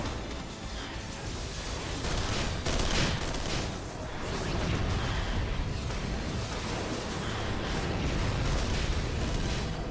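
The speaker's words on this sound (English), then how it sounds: "Just a few Magitech cannons" Magitech cannons fire repeatedly in Final Fantasy XIV, a dense barrage of loud, overlapping booms and blasts rolling on steadily throughout with no pauses.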